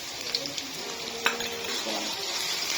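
Ginger garlic paste and onions fry together in a pan for a spicy chicken curry, giving a close, steady sizzle with a few light clicks of stirring and one brief louder tap.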